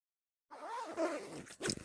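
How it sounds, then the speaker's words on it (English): A motorcycle airbag vest's zipper is pulled up in one smooth, close, fairly loud rasp lasting about a second, with a brief extra burst of zipping at the end; no talking. "Zip it up."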